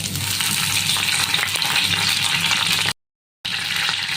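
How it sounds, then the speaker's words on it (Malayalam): Curry leaves crackle and sizzle loudly in hot coconut oil for a jackfruit seed dish, a dense, close spitting hiss with a brief gap of silence near the end. "ഇനി നമുക്ക് അതിലോട്ട് കറിവേപ്പില ഇട്ട് കൊടുക്കാം"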